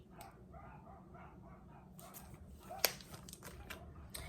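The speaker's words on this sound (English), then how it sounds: "My dogs are barking." Dogs bark outside, faint and distant, with scattered yips and one sharper bark standing out near the end.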